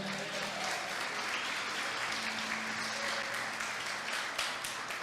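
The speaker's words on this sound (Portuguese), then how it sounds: "Você pode aplaudir a Ele aí por isso?" Congregation applauding in a church service, a steady, dense wash of clapping filling the room throughout, with a faint sustained background tone beneath.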